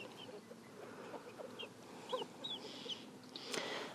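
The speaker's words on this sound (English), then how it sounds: "So I think this one might be a rooster" A young rooster makes soft clucks and short squeaky crowing attempts, scattered chirpy calls rising over a quiet outdoor background with no talking.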